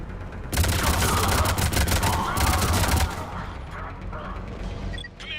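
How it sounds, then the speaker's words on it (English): Battlefield barrage in Mass Effect: a dense, loud roll of rapid firing and thudding impacts for about two and a half seconds, then easing into a lower, more distant rumble of combat. "Commander, we're getting a lot of mortar fire."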